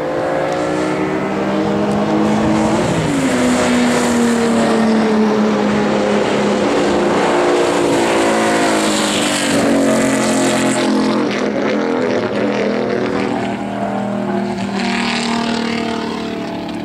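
A Ferrari 212 race car in a 250 body warms up with a loud, close engine roar, revs rising and falling in sustained blips over the idle throughout, with no voices.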